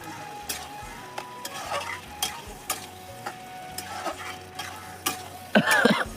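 Boiled potatoes are sautéed with spice paste in a pan, with a steady low sizzle under repeated stirring scrapes and sharp spoon clacks against the pan, growing busier near the end.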